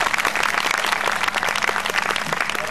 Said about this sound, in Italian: Una parola, un applauso serio!